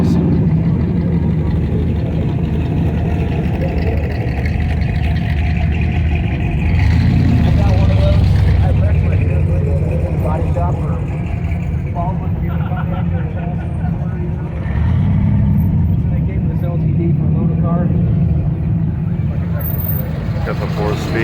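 A 1968 Chevy Camaro SS 396 convertible with a 4-speed runs close by, its deep engine rumble holding steady with two brief swells, while people talk over it.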